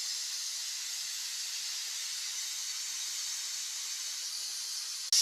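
A pressure cooker releases a steady, even hiss of steam, loud and close, continuing unbroken before a sharp brief burst at the very end.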